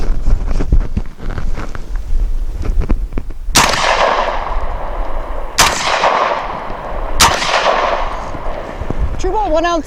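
Three sharp, loud blasts from a Genesis Arms Gen-12 12-gauge shotgun firing double-aught buckshot, spaced a couple of seconds apart outdoors, each decaying quickly under wind rumble.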